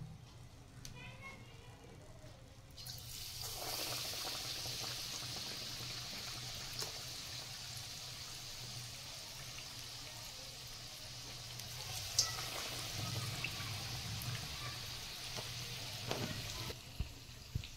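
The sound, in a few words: vada frying in hot oil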